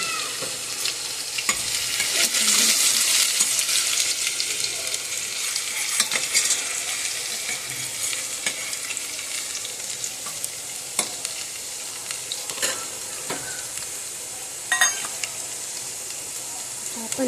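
Garlic and ginger fry in hot oil with cumin for Sindhi kadhi, a continuous close sizzle and hiss broken by occasional scrapes and clicks of a stirring spoon against the pan.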